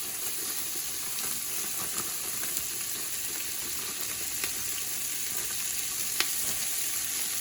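Diced onions frying in garlic-infused olive oil give a steady, soft sizzle with light crackle and occasional stirring clicks, continuous and close with no voices.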